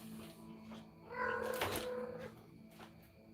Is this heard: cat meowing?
yes